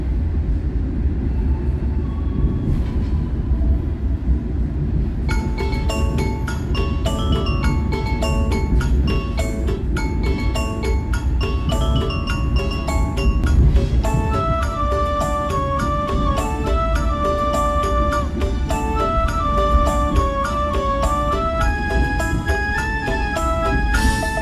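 A Gumarang long-distance business-executive train pulls into Cirebon station in Indonesia, with a steady low rumble of rolling wagons heard from inside. About five seconds in, a melodic chime or station jingle begins and keeps going over the noise.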